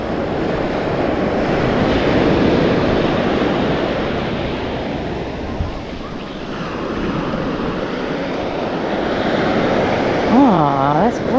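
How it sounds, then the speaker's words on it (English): A scallop shell is rinsed in shallow sea surf, heard as a steady loud wash of waves with wind buffeting the microphone, and a faint voice near the end. "Let's rinse the scallop."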